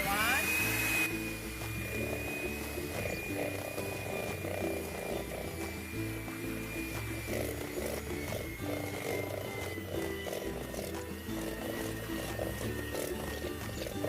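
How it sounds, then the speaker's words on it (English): An electric mixer on its lowest speed beats confectioners' sugar into pumpkin whoopie pie filling, a steady, close whirring motor hum with a faint high whine that runs unbroken throughout. "start your mixer on 1"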